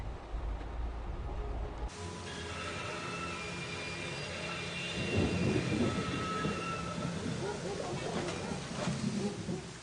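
A thunderstorm rumbles in the video game Syberia: The World Before, a low roll of thunder with rain-like hiss, swelling midway and lasting throughout at moderate loudness.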